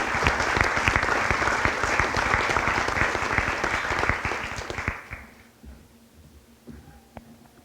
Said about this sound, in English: One more big round of applause for the 2015 Girls Track Dream Team.